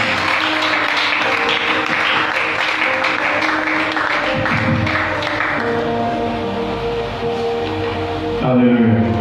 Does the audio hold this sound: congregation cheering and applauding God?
yes